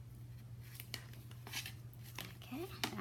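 Scissors snipping through a doll clothing pattern, several short crisp cuts at close range over a low steady hum.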